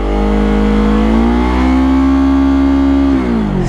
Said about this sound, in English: You can rev it up higher.